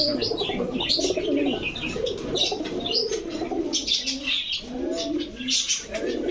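Several tagged racing pigeons coo in low, throaty bursts that overlap continuously, close and fairly loud, with light chirps, some wing flutter and faint voices in the background.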